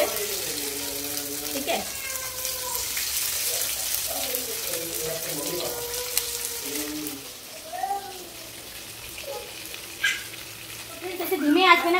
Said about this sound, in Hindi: तो मैं कम कम करके फ्राई करूंगी कुछ इस तरीके से